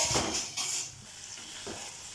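Chicken pieces frying in oil in a pan for chicken gravy, with no water added, giving a steady close hiss and crackle, brief scraping stir sounds mixed in.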